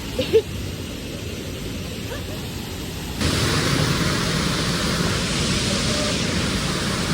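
Rushing water at a waterfall in Bali, a steady broadband roar that jumps louder partway through and then holds constant, with a couple of faint knocks near the start.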